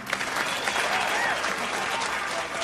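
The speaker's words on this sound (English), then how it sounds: "A big round of applause for Whisper Hug." A crowd at a charity auction event claps in a loud, sustained round of applause that fills the whole short moment.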